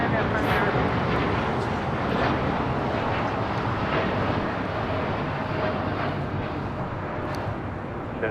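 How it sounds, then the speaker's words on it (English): A United Airlines Boeing 787-10 Dreamliner taking off from LAX for Newark gives a continuous broadband jet roar that stays steady throughout, heard from a distance with no speech. "This is United Airlines 2614 taking off to Newark on a 787-10 Dreamliner."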